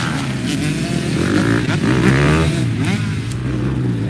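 Motocross motorcycle riding a training track with tight turns and steep jumps, its engine revving and climbing in pitch as it accelerates, steady and fairly close throughout.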